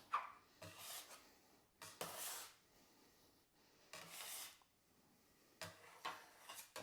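A dough scraper works floured cinnamon roll dough for Swedish kanelbullar in several separate bursts of close scraping and rubbing, with quiet pauses between them and no speech.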